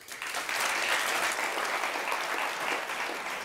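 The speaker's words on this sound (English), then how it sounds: "I want a very big hand for Timo" A large lecture audience at a Dutch design talk claps steadily in dense, sustained applause that holds at an even level throughout.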